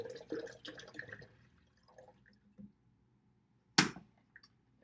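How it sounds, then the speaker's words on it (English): Water dumped into a kettle, heard as scattered faint drips and small splashes followed by one sharp, louder splash near the end, with quiet pauses between. "So I'm going to dump the water in the kettle."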